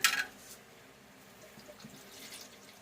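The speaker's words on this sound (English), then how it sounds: "Add about a half a canteen cup of water to that." Water splashes briefly and loudly into an MRE pouch holding chicken tomato feta, then trails off into a faint trickle.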